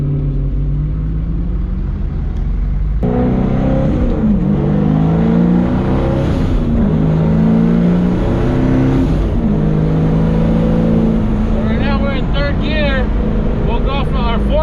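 A 1970 Chevrolet Chevelle engine drones loudly from inside the cabin, its pitch climbing and dropping as gears change down from fourth to second with rev matching, with a person talking over it.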